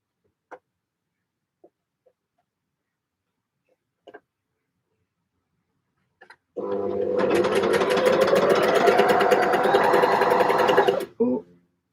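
A sewing machine stitches knit fabric in one steady, loud run of about four and a half seconds near the end, after a stretch of near silence broken by a few faint clicks and handling taps.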